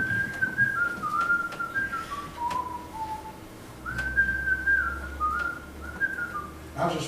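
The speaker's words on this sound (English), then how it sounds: "I would find myself whistling a tune." Someone whistles a wandering melody in short phrases, clear and fairly close, with faint room noise underneath.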